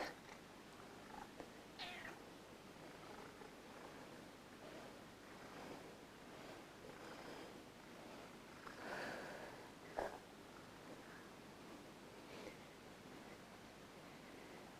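A chubby pet cat purrs softly and continuously close by in a quiet room, a low, steady rumble with a few small rustles and faint clicks along the way.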